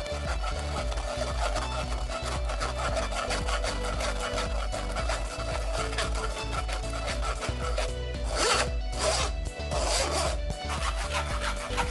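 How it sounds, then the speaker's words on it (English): Cucumber and apple pulp scraped and stirred in circular motions inside a strainer to drain the juice, giving a continuous close rasping, scratching rub with a few sharper scrapes near the end. "mixing it in circular motions so that everything is drained. Scrape it all around."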